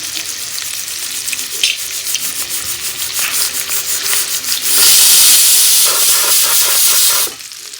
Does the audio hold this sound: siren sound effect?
no